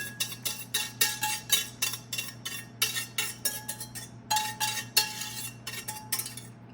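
Coconut, sugar and salt are mixed into eggs in a bowl for a honeycomb cake, a utensil rapidly clinking and scraping against the bowl in quick rhythmic strokes, close and steady over a low hum.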